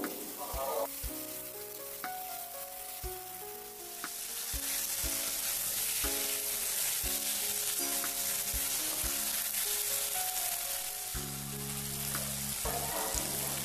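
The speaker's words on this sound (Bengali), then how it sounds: "এই সসগুলো দিয়ে আমি একটু নাড়াচাড়া করে নেব।" Chilli egg being stirred with chilli sauce in a hot pan: loud, constant sizzling up close, broken by repeated spatula scrapes and knocks against the metal, with a faint tonal hum running underneath.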